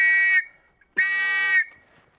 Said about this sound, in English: The local warning signal for an air raid is this.